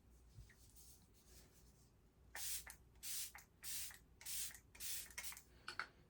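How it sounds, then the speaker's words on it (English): Makeup setting spray misted in a series of short, close, loud hissing bursts, five or six pumps in quick succession after a quiet start. "Let's just use some setting spray."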